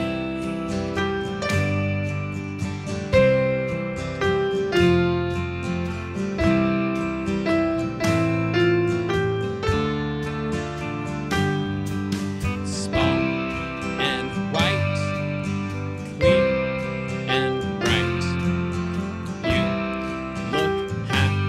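Easy piano arrangement played at full tempo on a piano, a steady melody over rhythmic chords that fills the whole stretch with even loudness and no voices.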